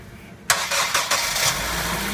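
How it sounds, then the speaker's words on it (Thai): A car engine cranks and catches with help from a portable jump starter: a quiet lead-in, then a sudden loud start at about half a second, a few surging pulses and a steady idle afterward, close up. "ปึ๊บแล้วก็สตาร์ทรถได้เลย"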